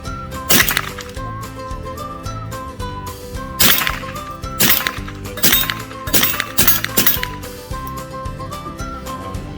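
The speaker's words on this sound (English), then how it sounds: "shells are bouncing everywhere" Empty .22 shell casings from a Savage Model 6D rifle clink and bounce around close by, light metallic ticks scattered among sharp, loud cracks from the rifle firing.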